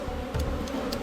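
Honey bees buzz in a steady, close drone at an open hive during an early July inspection, with a few faint clicks.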